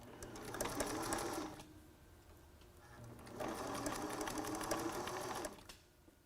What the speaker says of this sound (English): Make sure that the presser foot is always down when you're about to sew